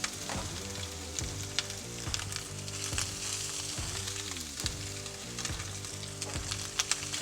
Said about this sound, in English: Oh man, hear that sizzle.